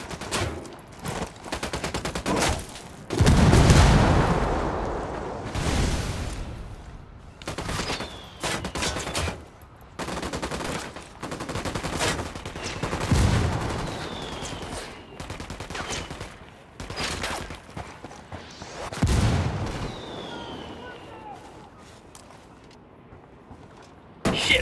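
Gunfire in the shooter Ghost Recon Wildlands: repeated bursts and single shots from automatic rifles, some loud and close, others sharper and farther, spread across a tense firefight with short gaps between volleys.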